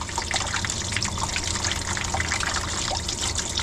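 Water gushes steadily from the drained oil pan of a flooded ex-CHP Chevrolet Camaro, a constant, loud splashing trickle with no letup.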